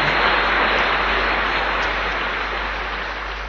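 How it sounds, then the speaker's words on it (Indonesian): Audience applause during an Indonesian talk on patience, a dense, even hiss of clapping that holds steady and slowly fades toward the end. "tepuk tangan."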